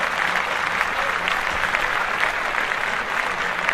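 Applause from a podcast audience, a dense, even burst of many hands clapping continuously and fairly loudly for several seconds, with faint voices mixed in.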